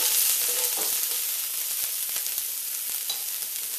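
Diced onion fries with garlic and ginger for vegetable fried rice, giving a bright continuous sizzle close by with faint light clicks of stirring.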